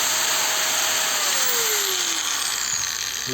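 A repaired PRO-CRAFT PW-1100 angle grinder runs freely at full speed, a loud, steady high-pitched whine with a faint shifting tone, close by and with no talking.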